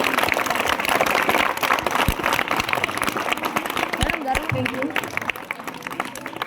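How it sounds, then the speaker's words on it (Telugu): Applause from an audience at an employees' welfare society event honouring Savitribai Phule, a dense burst of clapping that continues for several seconds, with a voice speaking over it. "ఒక్కసారి ఆమెకు ఒకసారి గట్టిగా క్లాప్స్"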